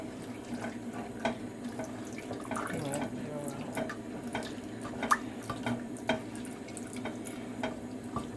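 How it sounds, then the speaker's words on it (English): Liquid poured slowly into a pan while making macaroni cheese at home, a faint continuous trickle with small drips and clinks, heard under quiet kitchen background noise. "Okay, you pour it in slowly then"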